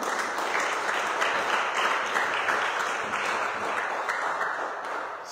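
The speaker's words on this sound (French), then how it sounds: "Acclamons le Seigneur." A church congregation applauding together, a dense steady clapping that holds for several seconds and slowly fades.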